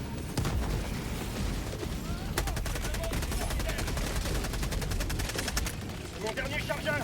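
Rapid automatic gunfire from the video game Helldivers 2, dense bursts of shots running almost continuously for several seconds amid a loud, busy mix of game noise, with a voice talking over it.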